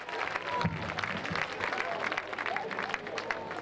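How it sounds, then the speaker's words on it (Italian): An audience applauds a presenter at a village music show, steady and moderately loud clapping with a few voices mixed in, lasting the whole few seconds. "Facete l'applauso sempre alla presentatora Buna"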